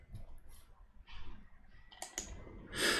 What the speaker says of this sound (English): Having two buttons makes it easier to tap out the rhythm than just tapping a single button.